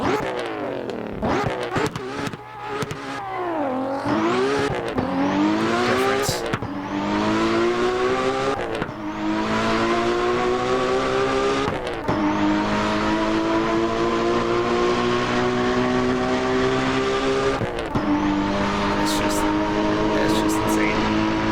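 Loud engine of an R34 Skyline V-Spec racing car in a Shutoko Revival Project driving game, droning steadily with rising and falling revs and gear shifts, while a person talks over it throughout.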